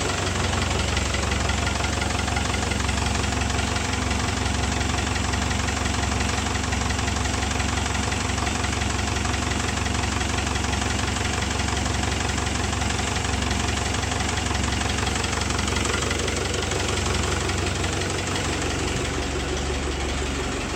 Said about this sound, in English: Hear the hydraulic pump moaning and groaning.